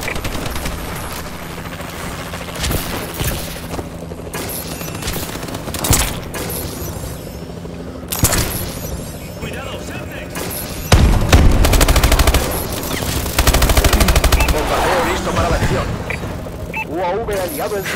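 Call of Duty: Advanced Warfare multiplayer battle with a Warbird aircraft in play, sustained machine-gun fire and heavy booms building to louder rumbling bursts, with voices speaking over the action.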